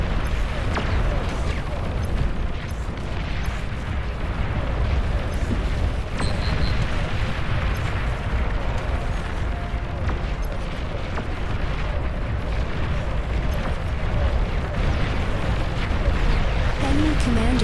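Commander unit explosion in the strategy game Beyond All Reason, set in a continuous roar of distant booms, gunfire-like pops and rumbling eruptions, with a voice intermittently speaking over the battle.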